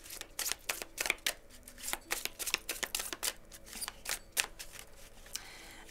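Tarot cards are shuffled and dealt onto a table in a series of crisp, rapid riffles and soft slaps, close and fairly quiet, with no one speaking.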